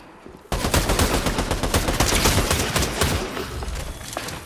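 A sudden burst of rapid Fortnite video game gunfire erupts and continues as a dense volley of shots, loud and close, with a few trailing pops near the end.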